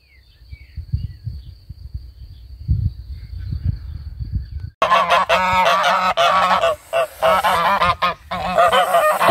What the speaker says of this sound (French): Les oies de Toulouse.